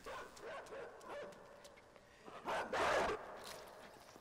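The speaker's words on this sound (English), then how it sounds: "Oh, the dog is still here!" In the video game INSIDE, a dog barks in a series of sharp yips and barks. The sounds are moderately close, grow louder toward the end and come over quiet ambient noise with no talking.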